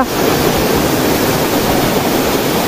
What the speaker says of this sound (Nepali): यही हो अँधेरी झरना